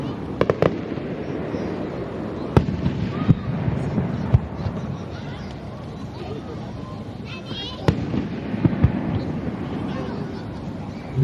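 Fireworks at the 2019 Akikawa river fireworks festival in Japan burst with sharp, scattered booms and crackles against a constant crowd and outdoor rumble, while a voice narrates over them.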